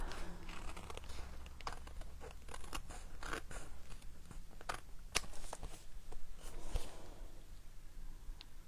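Scissors trim excess card during cardmaking, producing several crisp close snips with light paper crinkling and crunching between cuts.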